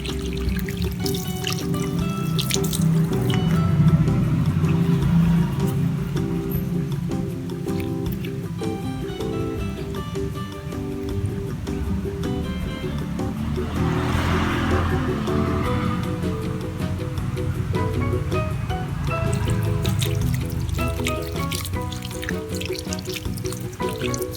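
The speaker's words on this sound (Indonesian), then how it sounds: "apakah sudah ada air yang bocor yang dari atas itu meresap sampai tembus di bawah pot" Water trickles and drips steadily from the bottom of a bonsai pot of bougainvillea after the soil mix is reworked and watered, a continuous soft dribble with a denser wet patch midway.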